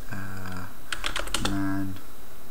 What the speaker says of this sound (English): We'll just type